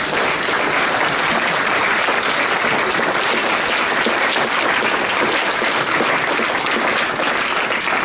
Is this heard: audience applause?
yes